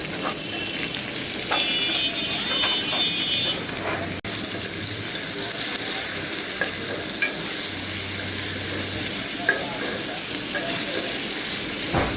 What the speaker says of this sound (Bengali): এই যে পটলটাকে এখানে ভাজতেছি। পটল ভাজার সাথে এরকম পেঁয়াজ ভেজে নিলে ভালো লাগে খেতে।